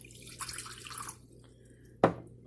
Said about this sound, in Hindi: तो हमने लिए नीम गर्म वाटर, तो थोड़ा सा हम इसमें डालेंगे